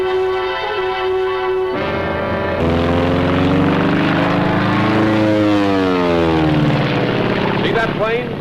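A WWII Japanese Mitsubishi A6M Zero fighter, Model 32 (A6M3), drones loudly with a steady propeller engine roar whose pitch sweeps and bends as it climbs past, filling the whole stretch.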